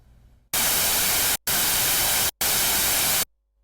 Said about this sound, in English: the last available waveform is noise, which is all the frequencies at the same amplitude, and that sounds like this